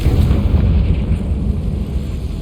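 Confringo blasting spell erupting in Hogwarts Legacy on PS5, a loud, sustained low rumbling explosion that fills the whole short stretch with a deep booming roar.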